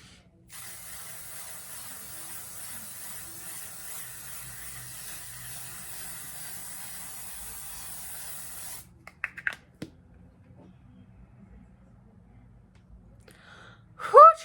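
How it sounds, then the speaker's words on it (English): A long continuous spray of L'Oreal Infallible 3-second setting mist onto a face, a close, steady hiss lasting about eight seconds, followed by quiet handling clicks and a brief sharp exhale at the end. "I'm gonna spray my face and then put on my mascara"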